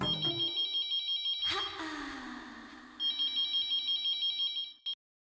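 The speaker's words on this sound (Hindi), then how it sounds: "चलो सबसे पहले अय्यर भाई को फोन करके बता देता हूँ" A telephone rings with a bright electronic double trill, stops briefly as a whoosh and fading tone pass, then rings again before cutting off, close and clear in an otherwise quiet room.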